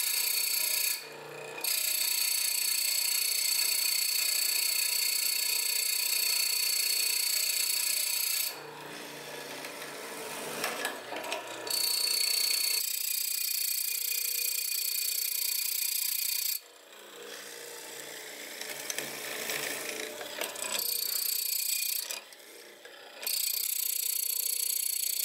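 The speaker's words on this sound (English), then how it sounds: "I'll be doing that with my mortising machine" Mortising machine cutting mortises in white oak, bursts of loud grinding, rasping chisel-and-bit noise broken by short pauses, close and alone without talk.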